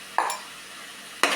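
Onion, tomato and carrot with turmeric and salt sautéing in a pan for semiya kichadi, with two short scraping stir strokes about a second apart over a faint background hiss.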